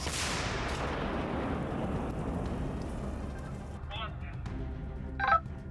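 A heavy artillery blast opens with a loud broadband boom that rolls off into a long decaying rumble, with some faint clatter and a brief sharp sound near the end.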